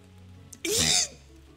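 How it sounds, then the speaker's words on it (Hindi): A single sneeze-like burst in a storytelling setting, after a character is soaked in the rain, loud and brief, lasting about half a second over quiet background hum. "बारिश में भीग के उसको छींकें आने लगी।"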